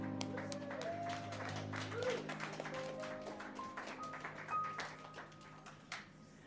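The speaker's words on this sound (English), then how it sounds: "Let's give him a huge round of applause." Audience at a live children's radio broadcast at Explora breaking into applause for a keyboard player, a dense patter of clapping under music that fades out early, fairly faint and distant.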